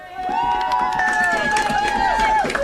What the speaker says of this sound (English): Ferguson with a good cheering section here tonight